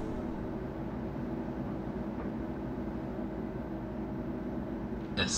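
An S-Bahn train bound for Teltow-Stadt in Berlin arrives at the platform with a low, steady rumble and rolling hum, moderately distant and continuous, ending in a brief high-pitched squeal.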